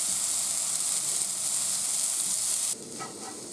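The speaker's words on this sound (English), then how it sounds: "stir fried minced vegetables" Minced vegetables stir-frying in a pan give a loud, dense, continuous sizzle up close, which drops suddenly to a quieter hiss near the end, with no talking.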